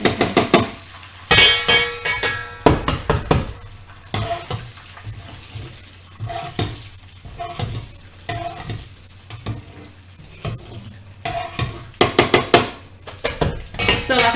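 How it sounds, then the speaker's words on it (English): Vermicelli noodles frying in a pan amid clattering utensils and stirring, with sizzling under repeated sharp scraping and knocking of pots and cutlery. "I'm going to actually fry one more lot of the vermicelli"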